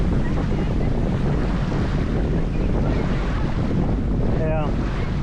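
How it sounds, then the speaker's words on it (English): Wind batters the microphone while a jet ski crosses two-foot southerly chop, a constant loud roaring rush with slapping water and a brief whistle near the end. "winds are out of the south about 12 miles an hour, and it is like 2-foot chop the whole way"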